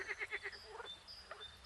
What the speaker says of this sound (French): au loin le chant des grenouilles